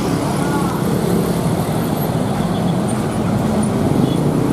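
A Budiman Pangandaran bus sits in steady road traffic at Limbangan market in Garut, where a constant engine and traffic rumble fills the scene and faint voices mix in beneath it.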